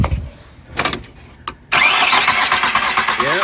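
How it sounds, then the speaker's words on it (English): A VW TDI diesel with a blown head gasket cranks over in short bursts, then catches at once and settles into a loud, rough idle close by, with no talking over it. "The blown head gasket sound."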